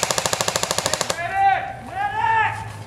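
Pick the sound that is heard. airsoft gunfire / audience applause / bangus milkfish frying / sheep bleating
airsoft gunfire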